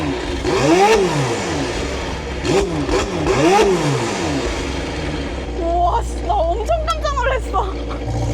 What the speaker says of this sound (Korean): 배기음 한번 더 들어보실래요? 공회전 한번 치는 거 한번 들어봐야지